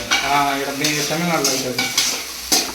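Marinated broiler chicken frying in a pan, a loud steady sizzle with repeated bursts of stirring and scraping, close by throughout, with voices talking faintly in the background.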